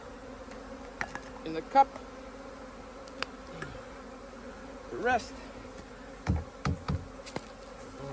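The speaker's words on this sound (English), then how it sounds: "There's a good portion of bees" Honey bees buzzing in a hive during oxalic acid varroa mite treatment, a steady close drone with individual bees swooping past the microphone, while a person speaks briefly under the buzzing.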